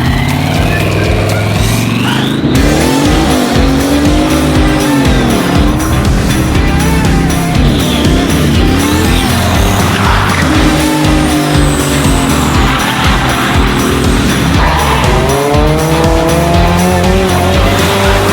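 Remote-control full-size quads racing and skidding, with loud engine revs rising and falling in rapid sweeps alongside tire squeals and scraping skids, continuous and close for the whole stretch.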